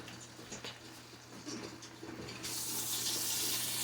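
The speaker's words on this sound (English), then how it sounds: "I want to put my spring water in it now." Spring water pours into a pan of roasting Brussels sprouts, a low patter at first that swells into a steady, bright rush of running liquid, fairly quiet and with no talk.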